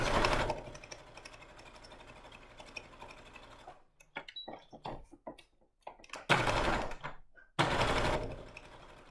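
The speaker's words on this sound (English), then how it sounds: "And then when I meet the stitching that I started with, I'm just going to reverse sew." A sewing machine top-stitches a fabric coaster with a steady whirring run. A stretch of scattered clicks and handling noises follows, then two short loud bursts of stitching, including reverse sewing.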